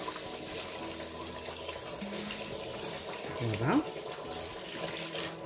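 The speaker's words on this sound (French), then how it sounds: "maintenant je vais les rincer" Tap water runs steadily in a kitchen sink to rinse roasted tlitli seeds, a soft, constant splashing with a brief surge near the end as a voice speaks.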